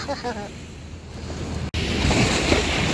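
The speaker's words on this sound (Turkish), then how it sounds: "Nasıl dalga ya?" Waves on a lake wash against the shore at a campsite in İznik, with a steady, close rushing of water and wind buffeting the microphone, and a brief voice at the start.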